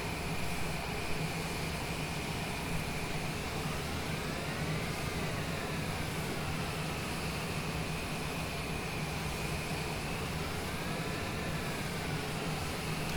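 Honeywell turbofan engines of a Cessna Citation Longitude business jet in Microsoft Flight Simulator, a steady whining jet drone with a faint rising and falling pulse as the thrust is pulsed, heard alone during taxi toward parking.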